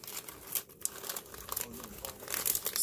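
Wrapping paper on a package crinkles and rustles steadily as it is slowly and carefully opened, close and fairly quiet, without any speech.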